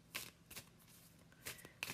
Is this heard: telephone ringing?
no